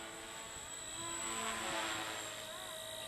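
A Blade 230S RC helicopter with a three-blade head flies nearby, its rotor producing a steady high whine and buzz that swells slightly, faint and continuous.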